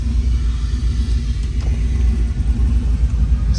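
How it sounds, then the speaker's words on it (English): Pickup truck fitted with a brand-new transmission and a lowered stance, heard while driving as a steady low engine rumble and road drone, continuous and fairly loud throughout with no talking. "We're driving the truck with the brand new transmission, and this truck is freaking low."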